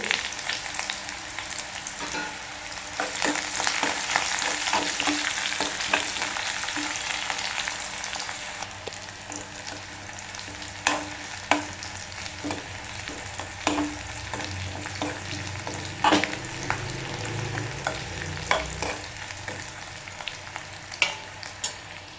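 Mustard seeds, dried red chilli, shallots and garlic fry in hot oil for a Kerala raw jackfruit curry. A steady, close sizzle runs throughout, broken by sharp pops from the seeds and repeated scrapes of stirring. No one speaks.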